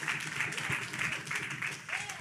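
An audience at a community outreach session claps, a steady, moderately loud wash of applause lasting a couple of seconds with voices mixed in underneath.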